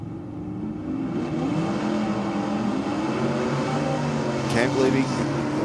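Drag racers at Sydney Dragway, a Willys among them, roar off the line together, a sustained loud engine drone with pedalling surges, heard over the voice of a commentator.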